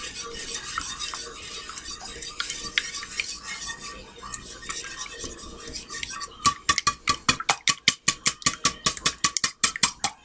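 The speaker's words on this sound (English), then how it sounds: "you're going to whisk it up. A little more difficult in a shallow bowl" French toast mixture whisked briskly in a shallow bowl, a fork or whisk scraping and clattering against the sides, turning into a fast, loud rhythmic tapping toward the end.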